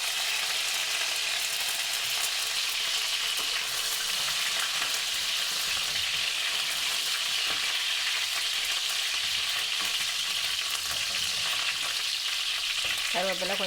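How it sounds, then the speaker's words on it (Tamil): Curry leaves crackle and sizzle in hot oil, a dense steady frying hiss with occasional stirring sounds, close and continuous, no talking. "கருவேப்பிலையை முதல் போட்டு கருவேப்பிலை பொரிக்கணும்."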